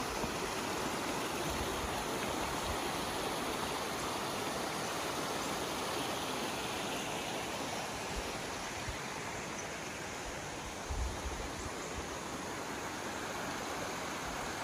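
A small confluence stream flows beneath a suspension bridge near Wat Khao Banchop in Chanthaburi, Thailand, making a steady, even rushing of water throughout with no voices.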